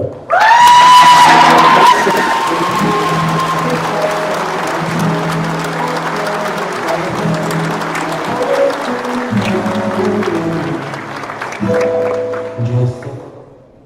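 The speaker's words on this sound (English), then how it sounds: "Give them a round of applause." Applause for graduates at a high school graduation ceremony: a large crowd claps loudly and continuously while sustained musical tones play underneath, fading out at the very end.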